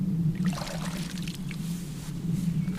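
Water trickling and splashing from a watering can onto a giant pumpkin plant growing in compost, a steady close pour with a low rumbling undertone throughout.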